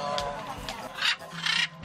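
A macaw parrot, a costly pet bird, gives a few short harsh squawks and calls, close by and moderately loud, at a gathering of birds for a free-flight contest.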